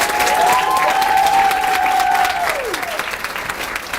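Steady crowd applause at a youth council graduation ceremony, many hands clapping continuously, with a whistled or squealing tone rising over it briefly and the clapping easing off toward the end.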